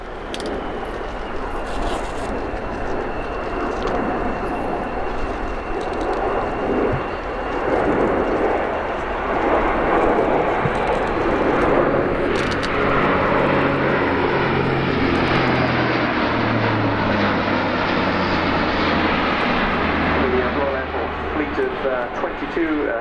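An Airbus A400M turboprop transport roars through a flying display at the RIAT air show in 2018, a loud sustained engine drone that shifts in pitch as it passes, with a voice speaking over it.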